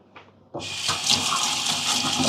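Tap water gushing steadily over a Bezzera Magica PID espresso machine portafilter as it is rinsed out after a soggy puck, starting abruptly after a faint clink and running loud and close.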